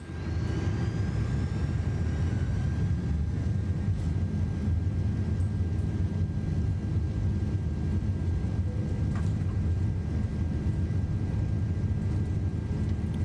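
An Airbus A380 in Microsoft Flight Simulator 2024 spools up for a flex temperature takeoff, a steady, loud, low engine roar with a faint high whine, unbroken for the whole stretch.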